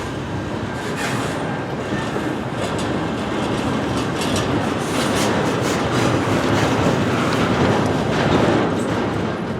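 A freight train passes with its locomotive running long hood forward along Tidewater rails, giving a loud, continuous roar and rhythmic clickety-clack of wheels over rail joints, with faint squeals mixed in.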